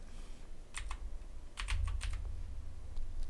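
Keys on a computer keyboard are struck in quick, close clusters of clicks, with a couple of short bursts and pauses between them over a low background hum, with no talking.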